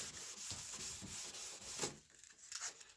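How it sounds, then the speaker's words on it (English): Car headlight lens being scrubbed lightly during restoration, soft rhythmic rubbing strokes heard close up, with a brief stronger pass near the end. "scrub, make sure you don't go too hard. Scrub lightly."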